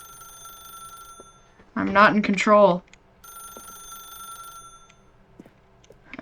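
A telephone rings in The Stanley Parable, a steady electronic ring heard faintly before and after a short burst of someone speaking over it.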